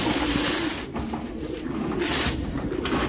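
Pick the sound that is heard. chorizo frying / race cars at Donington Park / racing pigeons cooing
racing pigeons cooing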